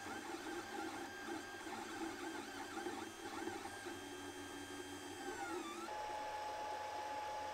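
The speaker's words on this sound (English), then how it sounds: "Now let's listen how printing the first layer sounds before." Printing its first layer, a stock-mainboard Ender 3 3D printer gives off warbling, wavering stepper motor whines over a constant fan hum, moderately quiet, with the motor tones settling into a steadier pitch toward the end.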